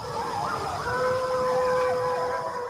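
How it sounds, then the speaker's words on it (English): Wild canids, coyotes or wolves, howl in long wavering tones, faint and distant over steady background noise, with several voices overlapping. "Towards the end, there's some coyotes."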